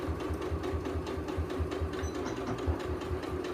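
A sewing machine runs steadily while backstitching a straight row of reinforcing stitches, its needle thumping in a fast, even rhythm with a mechanical whir, close up and continuous with no talking.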